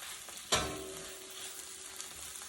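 Cut onion with orange and red sweet peppers caramelizing and charring in a pan, a soft continuous sizzle with one sharp crackling burst as the food is stirred.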